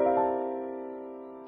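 A 13th chord built on the C dominant scale, struck once on piano and left to ring, a rich sustained chord fading slowly.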